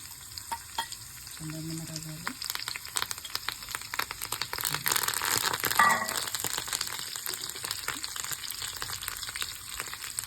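Urad dal, cumin and dried red chillies fry in oil for a coconut chutney, a soft steady sizzle with dense crackles and a few stirring scrapes, building louder midway and settling down toward the end.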